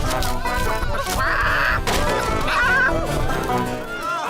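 A cartoon chicken is chased, with bright squawking bursts over busy music and sound effects; the loud, dense scene carries no clear speech.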